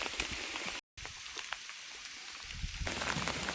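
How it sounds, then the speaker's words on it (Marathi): Rain falls in a dense Uttarakhand forest on a trek from Devriya Tal to Chopta, a soft continuous patter and hiss with a brief dropout, then swelling slightly louder near the end. "पाऊस तर अजून सुरूच आहे"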